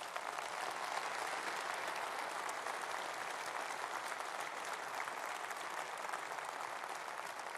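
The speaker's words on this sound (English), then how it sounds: "You see my friend Michael leading the clap there." Delegates at a Conservative Party Conference clap through a political speech, a sustained wash of hall applause that holds evenly for the whole stretch with no talking.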